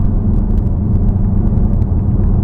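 Ford Mustang fitted with a Roush axle-back exhaust and H-pipe, a loud, deep, steady rumble from close by, holding an even throaty drone without revving.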